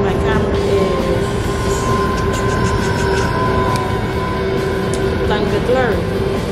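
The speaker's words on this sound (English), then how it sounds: "I am sitting on the metro on my way to work." Inside a moving metro train, a loud, steady rumble of wheels and car noise fills the ride, with a constant whine and occasional squeals and clicks, while a person talks over it.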